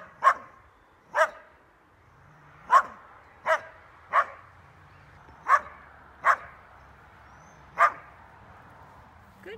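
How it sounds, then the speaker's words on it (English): A young border collie barks at a backyard fence, giving about eight sharp, separate barks spread at uneven intervals over ten seconds, moderately close with quiet pauses between them. "your dog runs back and forth barking at the fence"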